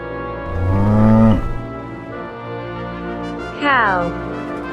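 A cow lows twice, up close: a deep, drawn-out moo, a quieter gap, then a shorter call that rises and falls.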